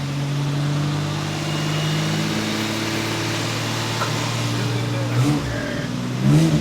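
A turbocharged Datsun V6 built engine runs with a steady, close engine drone, then rises and surges in a brief rev near the end.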